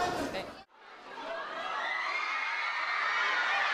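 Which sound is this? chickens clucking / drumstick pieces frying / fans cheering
fans cheering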